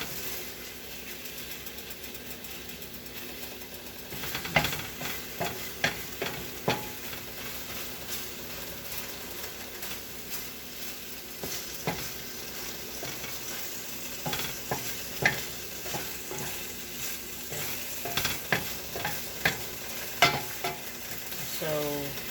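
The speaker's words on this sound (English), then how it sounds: "Just stir it evenly," Beaten eggs for a shrimp omelette with cilantro and spring onions, stirred gently in a hot pan: steady soft sizzle throughout, broken by repeated scraping and tapping strokes of the utensil that start a few seconds in and recur irregularly.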